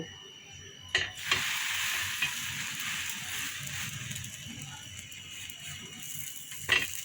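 Potato-filled bread slices fry in oil on a tawa with a soft, continuous hiss, marked by a few sharp clacks of a utensil against the pan.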